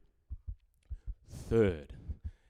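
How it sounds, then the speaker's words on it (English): A heartbeat effect plays at a live classic motorcycle auction: soft, low double thumps repeat at a steady, slowing pace, briefly interrupted by a short word from the auctioneer. "The heartbeat sound thing slowed down."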